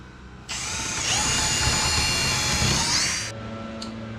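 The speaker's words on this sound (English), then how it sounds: "Removing our blade and back to the drill." A power drill boring a hole in a wooden part for a homemade bucksaw: a loud, steady high-pitched whine that starts abruptly, holds for about three seconds with slight pitch wavering, then winds down and stops, followed by a brief faint click.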